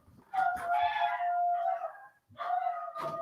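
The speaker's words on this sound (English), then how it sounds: "Fucking dogs. Dogs being dogs, man." Dogs at home let out two close howling, whining bursts, the second starting after a short pause, with no talk.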